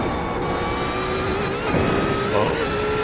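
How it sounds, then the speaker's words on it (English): A GT3 race car spinning through donuts in a racing video game at Daytona, its engine holding a steady, moderately loud whine with rising harmonics and a brief swell of revs near the end. "He's doing his donut celebration early."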